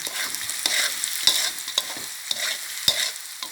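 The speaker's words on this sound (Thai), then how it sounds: "เร่งไฟแรงแล้วก็ ผัด ผัดทุกอย่างให้เข้ากันค่ะ" Chilies and sauce stir-fried over high heat for sea bass in tamarind sauce: a steady sizzle with a spatula scraping and clacking against the pan at irregular intervals, close and fairly loud, no talking.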